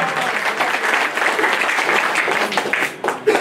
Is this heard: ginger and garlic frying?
no